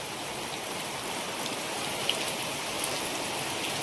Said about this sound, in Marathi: पहिलं पाऊस पण खूप जोरदार आहे